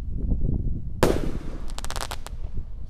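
A Bima Sakti 4 firework goes off outdoors with a sharp launch burst, followed by a flurry of crackling pops and bangs over a steady rumbling background.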